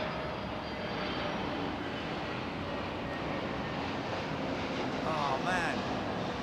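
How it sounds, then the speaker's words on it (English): A passenger jet at London Heathrow Airport gives a continuous broad roar of engine noise throughout, steady and moderately loud, with a brief higher whine near the end. "Passenger jet."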